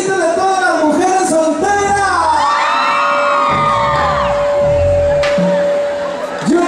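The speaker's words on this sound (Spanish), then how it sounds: "sin antes de escuchar el grito de todas las mujeres" A large crowd of women at a fair concert screams and cheers loudly and continuously, shrill whoops rising over the dense roar, with a steady musical tone held underneath.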